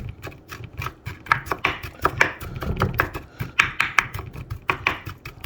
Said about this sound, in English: I just chop them up real finely here